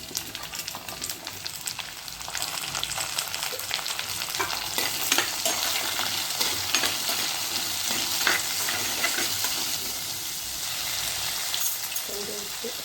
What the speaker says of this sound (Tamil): கொஞ்சம் வெந்தயம் போட்டு வதக்கிக்கோங்க